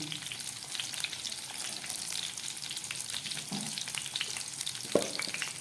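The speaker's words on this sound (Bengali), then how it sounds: "নুন আর হলুদ দিয়ে পটলটাকে আমি খুব সুন্দরভাবে ভেজে নেব" Pointed gourd (potol) fries over medium heat with salt and turmeric, a soft continuous crackling sizzle with scattered pops and a couple of faint stirring scrapes near the end.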